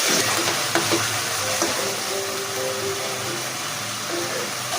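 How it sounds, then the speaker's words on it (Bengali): Ginger garlic paste fries in a pan with whole spices and bay leaves, a continuous loud sizzle with a few stirring scrapes over the top, and no talking. "আদা রসুন সুন্দর করে ভাজা হয়ে গেছে।"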